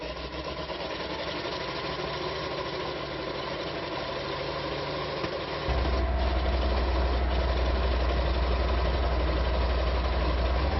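An M18 Hellcat tank engine turns over and catches midway, jumping from a cranking whir to a loud, deep, steady idle that rumbles on alone.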